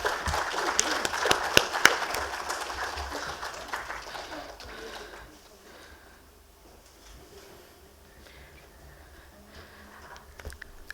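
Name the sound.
audience applause at a conference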